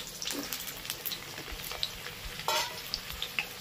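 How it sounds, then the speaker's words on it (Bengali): Potatoes frying in hot oil crackle in a close, continuous sizzle, with occasional louder pops and light stirring clatter. "আলুটাকে লাল করে ভেজে নেবে।"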